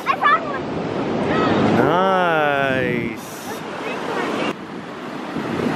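Ocean waves wash up on a beach with a steady rushing surf and wind noise, while a voice and an adult's voice talk over it.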